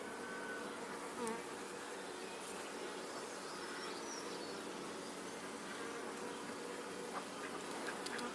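Honey bees buzzing over an open hive: a dense, steady drone from many bees close by, with the odd louder pass of a single bee, and no one talking.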